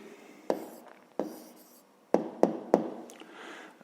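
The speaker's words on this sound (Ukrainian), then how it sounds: "зараз записуємо відповідь" Pen strokes scratch across paper as a written answer goes down by hand, several distinct tapping and scraping marks spaced irregularly, close and fairly quiet with no talk.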